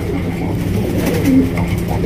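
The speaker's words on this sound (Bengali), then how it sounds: "এটা হচ্ছে বুলো বার স্ট্রেচার কবুতর।" A Bulo bar stretcher pigeon coos nearby, a low, soft, rolling call repeated across two seconds.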